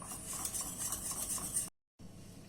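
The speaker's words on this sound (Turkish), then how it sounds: "Tekrar karıştırıyorum ve altını kapatıyorum." Steady scraping and swirling of a spoon stirring thick vanilla milk pudding in a pot, close and continuous, then a brief silence before stirring resumes.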